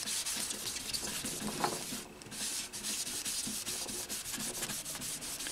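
Steady back-and-forth rubbing of a cloth applying polish to the smooth top of an Alvarez Yairi guitar, close up, with a brief pause partway through before the strokes resume.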